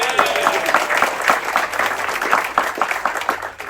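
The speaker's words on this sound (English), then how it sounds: "So big applause for all Lyudmila." Audience applause for Lyudmila, a crew member introduced at a celebration aboard a cruise ship, a steady patter of many hands with a voice talking faintly underneath.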